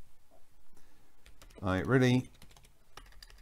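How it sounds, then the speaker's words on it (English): Close, rapid clicking of keys on a computer keyboard as someone types, with a brief stretch of speech over the clatter midway. "apologize for my typing"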